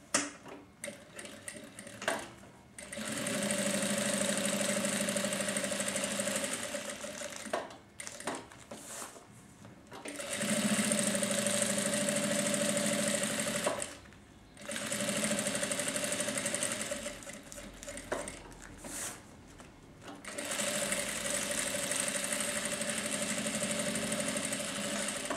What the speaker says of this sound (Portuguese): Vamos rebater uma costura nessa volta da aba